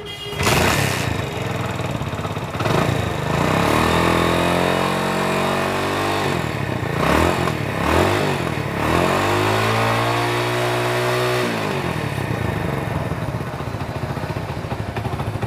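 Hero Honda Splendor motorcycle engine cranks and catches, then runs and revs in repeated rising and falling swells, loud and close throughout with no talk.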